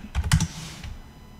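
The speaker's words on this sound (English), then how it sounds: "if you click on the letter, you can just type in the 5 there." Quick clatter of computer keyboard keys being typed, a short burst of a few keystrokes, close and moderately loud, then quiet room tone.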